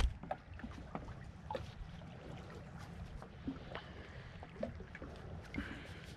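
A modded Superjet stand-up jet ski runs out on the water after a carburetor adjustment, its engine a low, distant rumble mixed with wind and water splashing, with no speech.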